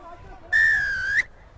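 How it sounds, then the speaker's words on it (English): A referee's whistle at a rugby tournament match gives one loud, sustained blast lasting under a second, shrill and steady with a slight upward flick at the end, over faint crowd murmur. "Loud whistle by the referee."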